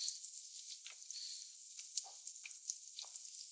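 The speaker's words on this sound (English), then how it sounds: "rest them in the oil for 5 seconds, just so the frying action starts to happen" Quiet, steady sizzling of enoki, beech and oyster mushrooms frying in hot oil for tempura, with faint crackles and small pops scattered throughout.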